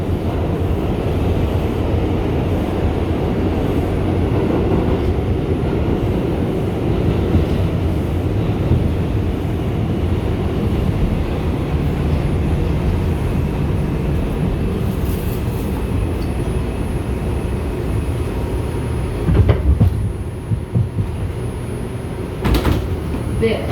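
An R142 New York subway train on the Lexington Avenue local line rumbles steadily from inside the car, a loud continuous roar with occasional clunks and rattles near the end.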